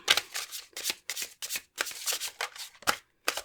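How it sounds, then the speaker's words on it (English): Tarot cards being shuffled by hand in a series of quick riffling bursts, about eight short papery flurries separated by brief pauses, close and fairly quiet with no voice. "Let's shuffle and find our pile leaders now."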